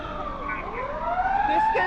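An ambulance siren wails with rising, sweeping tones, moderately loud and growing nearer, with no clear speech over it.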